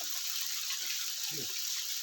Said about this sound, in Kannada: ನೋಡಿ ನೀರು ಬೀಳುವ ಸ್ಟೈಲ್ ನೋಡಿ, ಜಾಲಿಯಾಗಿ ಬೀಳ್ತಾ ಉಂಟು ಮೇಲಿಂದ